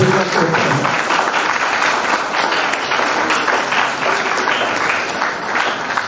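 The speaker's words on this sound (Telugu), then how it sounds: "అందరూ కూడా చప్పట్లతోటి వారికి అభినందన తెలుపు" Audience applause at a community event honouring a disability-support society, steady dense clapping from a large crowd that fills the whole stretch without a break.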